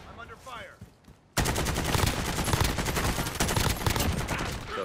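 Dense rapid-fire gunfire from snipers in a first-person shooter game, erupting suddenly after a brief quieter stretch and continuing loud and sustained with bursts of overlapping shots.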